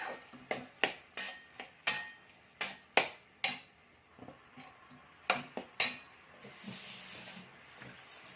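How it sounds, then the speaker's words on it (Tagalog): A utensil scrapes and taps against a pan while tomato is mixed into minced pork, giving a quick run of sharp clinks and scrapes that ends in a soft hiss. "Ihalo natin dito sa ating minced pork."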